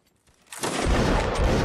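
Musket volley in the video game Mount and Blade: Napoleonic Wars, quiet at first, then a loud crackling burst of many shots that sustains as a dense, rumbling roar.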